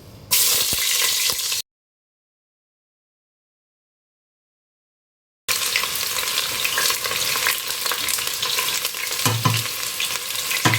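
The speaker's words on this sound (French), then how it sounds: "notre huile a chauffé. Je vais mettre les oignons" Onions fry in hot oil in a saucepan with a loud, crackling sizzle and stirring scrapes, cut off by a gap of complete silence of about four seconds before the frying resumes just as strongly.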